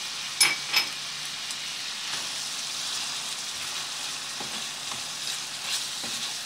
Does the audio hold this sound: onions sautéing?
yes